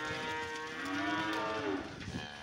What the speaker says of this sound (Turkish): Şu anda ineklerimizi dışarı saldık yeşilliğe.